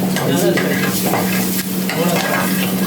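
Split green chilies and chopped tomatoes sauté and sizzle in a pan at a Goan restaurant kitchen, a steady close frying hiss with stirring scrapes throughout.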